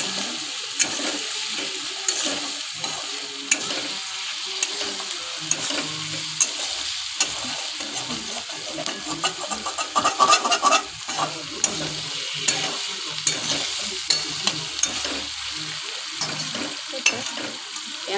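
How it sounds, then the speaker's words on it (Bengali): Ginger-garlic paste and frying onions sizzle steadily in a pan as a spoon stirs through them, a continuous close hiss of hot oil broken by soft scraping strokes, with no voices. "ভালো করে নেড়ে নেব।"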